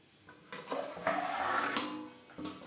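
Metal pot and lid clatter on a gas stove with the flame switched off, after cooking a khoira fish curry with brinjal: a few close clanks and a scraping settle, then a final knock near the end.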